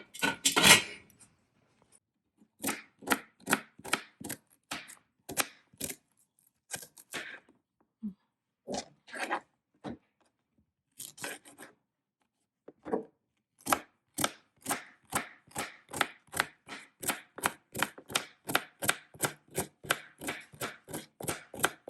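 A knife chops vegetables, including carrot, on a cutting board for rice noodles with beef and shrimp, sharp distinct taps in irregular bursts that settle into a fast, steady rhythm, close and clear with no talk.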